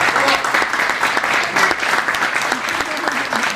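A meeting audience gives a big round of applause, loud, dense clapping that holds steady throughout with a slight crowd murmur beneath.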